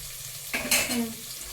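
Onion starts frying in a hot pan, a sudden burst of sizzling with a clatter as it drops in, then a settling hiss, brief and close.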